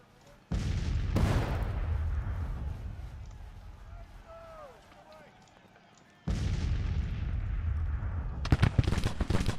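Musket and artillery volleys in the Civil War strategy game Grand Tactician, with heavy rumbling fire and crackling shots. The fire stops briefly, then returns with sharp reports near the end while a voice speaks over it.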